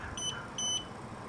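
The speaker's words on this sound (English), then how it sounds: "It beeps." A power wheelchair controller gives two short, high electronic beeps in quick succession, close and clean against a quiet room.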